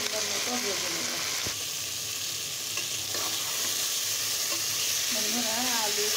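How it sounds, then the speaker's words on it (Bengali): Potatoes, pointed gourd and eggplant seasoned with salt and red chili powder sizzle steadily in a pan, a continuous crackling hiss with occasional stirring scrapes and a brief voice near the end. "লবণ, একটু লাল মরিচের গুঁড়া দিয়ে এখন এটাকে আমি সুন্দর মতো ভেজে নেব"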